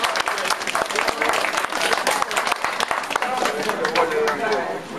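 Wedding guests clap and cheer in a dense, continuous burst of applause at a wedding celebration, with voices mixed in throughout.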